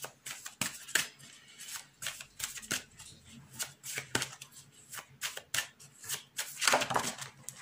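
Tarot cards shuffled by hand at close range, a series of quick riffling flutters and soft slaps in uneven bursts, with no one speaking.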